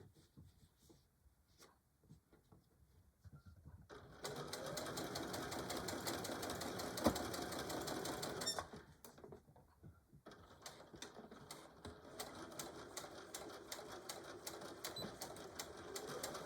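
A sewing machine stitches a tool carry bag in bursts: a quiet start, a loud steady run of rapid needle strokes, a brief pause, then a second sustained run, all close and without talk.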